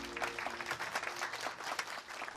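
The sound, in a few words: applause for cruise team at briefing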